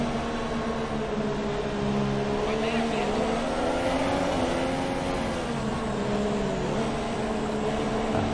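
Formula 1 car in the F1 2017 game at the Malaysian Grand Prix in Sepang, a loud continuous engine drone with rising and falling pitch during a pit stop tyre change, with a voice speaking over it.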